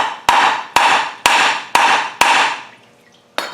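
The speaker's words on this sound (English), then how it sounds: "by using a big hammer, and beating on this bolt here with the head" A big hammer beats on a seized bolt on a Defender 300 Tdi, five loud, evenly spaced metallic blows with ringing decay, a pause, then one more strike.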